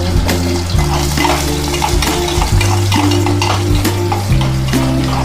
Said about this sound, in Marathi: बटाटे कच्चे असल्यामुळे थोडंसं तेलामध्ये फ्राय करून घ्यायचं